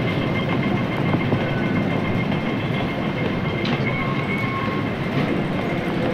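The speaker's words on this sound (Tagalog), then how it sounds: "Waiting tayo sa train." Train at a station in Hong Kong in the morning, a steady loud rumble with rolling rail noise and a faint squeal, continuous throughout with no clear talk.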